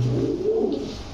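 A single short pigeon coo sounds close by at a pigeon farm, low and soft, lasting about a second with no voices.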